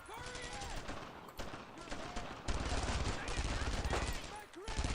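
Machine gun fire in the World War II video game Brothers in Arms: Road to Hill 30, dense bursts of rapid shots and scattered gunfire at a choke point, loud and nearly continuous, with a voice talking over parts of it.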